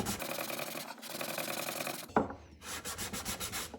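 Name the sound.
hand sanding wenge wood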